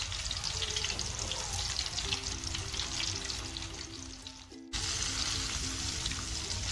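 Chicken pieces shallow-fry in hot oil for a zinger shawarma, a steady, dense sizzle and crackle running throughout with a brief dip near the end before resuming at full strength.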